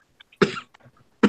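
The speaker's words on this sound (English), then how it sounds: "Who's coughing?" A person coughs twice in quick succession, sharp and close, followed by a brief throat-clearing burst, during a tabletop role-playing session.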